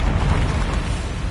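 A Confringo fire spell detonates in Hogwarts Legacy, a dense, loud, sustained blast of rumbling noise that fills the whole moment without pause.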